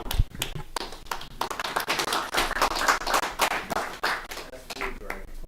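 A round of applause at a public board meeting, with many hands clapping in an irregular rapid patter close by that runs the whole time, a voice audible underneath.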